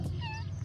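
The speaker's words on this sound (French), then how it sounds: "j'ai un chat qui me colle" A cat clinging close to someone in Morocco, with its kitten nearby, gives one short, clear meow at close range over a low, steady background hum.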